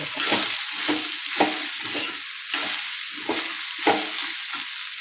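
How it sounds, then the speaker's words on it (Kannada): Ground jowar mixture is stirred in a hot pan, giving a steady frying sizzle with rhythmic, regular scrapes of a spoon against the pan, close and clear without voices. "ಹಾಕಿ ಸಣ್ಣಗೆ ತಿರುವಾಡ್ಬೇಕು ರೀ"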